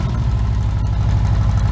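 A Harley-Davidson Twin-Cam engine breathing through a 2-into-1 exhaust and upgraded air cleaner idles close and loud, a deep steady throbbing pulse holding even for under two seconds.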